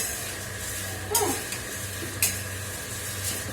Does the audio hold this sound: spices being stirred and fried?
yes